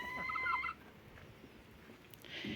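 Domestic hens kept with roosters in an old backyard flock make a brief clucking, gobble-like call up close at the start, then faint farmyard background with a short burst of noise near the end.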